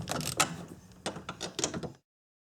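Hand tools work loose the three 12 mm top mount bolts on a Subaru Forester rear strut, giving a series of short metallic clicks and ratcheting bursts that are close and fairly loud, then stop abruptly.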